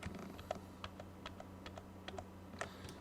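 Computer keyboard typing AutoCAD commands with Enter presses: light, close clicks and taps at an uneven pace over a low background hum, no talking.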